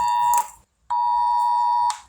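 Two loud electronic alarm beeps sound indoors during a rainstorm: a short tone, a brief silence, then a longer sustained tone, steady in pitch and close by.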